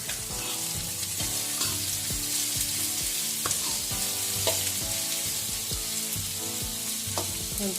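Ridge gourd frying in oil gives a constant dense sizzle with occasional clinks and scrapes of a utensil in the pan, close and steady throughout, no talking.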